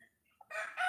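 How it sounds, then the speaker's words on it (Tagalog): A brief burst of chicken crowing rises suddenly after near silence, loud and close, cutting off quickly. "Yung mga manok."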